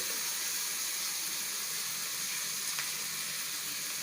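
Chicken korma masala frying in a pan on a medium flame, a faint, even hiss of sizzling with a brief sharper crackle near the end and no voices.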